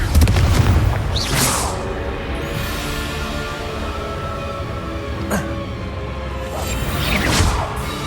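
Confringo blasting spells booming in Hogwarts Legacy, several heavy explosions with whooshing bursts and a rumbling tail between them, loud and close over a constant game backdrop.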